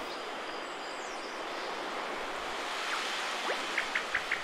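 River rapids in Paper Mario: The Origami King, a steady broad rush of churning water, with a few short chirping blips rising over it toward the end.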